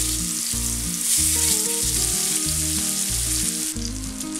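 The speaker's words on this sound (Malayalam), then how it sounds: "ഇതിലേക്ക് കുറച്ച് എണ്ണ ഒഴിച്ചു കൊടുക്കാം. ഇനി ഇതിലേക്ക് മീൻ വെച്ചു കൊടുക്കാം." Sole fish fries in oil on a hot tawa, giving a steady, close sizzle that runs throughout while music plays loudly over it.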